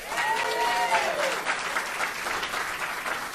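Sustained audience applause and cheering for the First Lady of Texas at a Valentine's Day political event, a dense crowd clapping steadily throughout with a brief whistle near the start.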